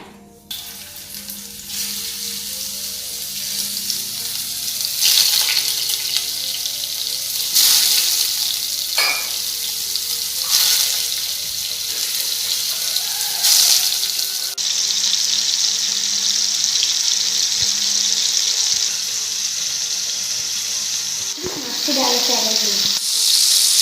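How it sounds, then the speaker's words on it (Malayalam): Food frying in hot oil in a heated pan for a pizza recipe, a steady loud sizzle with occasional stirring and clinks, running alone without talk. "പാൻ ചൂടായി വരുമ്പോൾ നമുക്ക് എണ്ണ ഒഴിച്ച് ഇതൊന്ന് ഫ്രൈ ചെയ്തെടുക്കാം."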